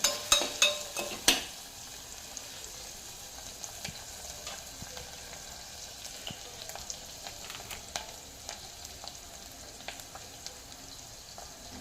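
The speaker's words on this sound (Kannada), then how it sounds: "ಇದು ಒಂದು ನಿಮಿಷ ಸ್ವಲ್ಪ ಫ್ರೈ ಆಗಲಿ" Ingredients for fenugreek pulao fry in a pan with a soft, continuous sizzle, opened by a quick run of metal spoon clanks against the pan and followed by scattered light scrapes and taps.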